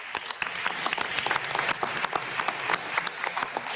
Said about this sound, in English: How about a round of applause for that group?